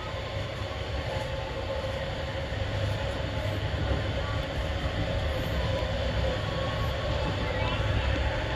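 A passenger train pulls out of Kediri station in East Java with a steady rolling rumble and rattle of wheels on rails, gradually growing a little louder, no talk.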